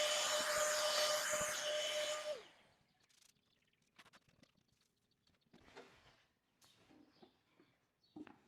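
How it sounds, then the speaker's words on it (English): A vacuum whines loudly while cleaning out the lower drawer space of a dresser, then cuts off after about two seconds, leaving faint scattered bumps and scrapes. "give it a little vacuum"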